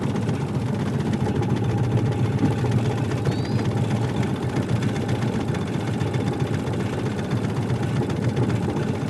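A boat motor drones loud and steady on a pike and walleye fishing trip in Canada, with a constant, unbroken engine hum and no talk.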